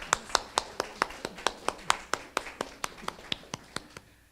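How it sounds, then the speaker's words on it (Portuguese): Hands clap for journalist Clara Arreguy at an academy session, a close, crisp run of about twenty even claps in a quick steady rhythm with little else around them. "Eu quero pedir mais palmas para a Clara Regui."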